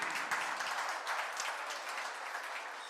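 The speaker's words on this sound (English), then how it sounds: "Big round of applause." Applause from a conference audience at an IEEE candidates forum: a fairly quiet, steady patter of many hands clapping, easing slightly toward the end.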